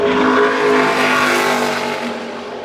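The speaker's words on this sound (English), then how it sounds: "Comes to the checkered flag for John Williams in the 45 car" A NASCAR Xfinity Series race car engine roaring at sustained high revs during championship qualifying at Phoenix, loud and close throughout, easing slightly toward the end.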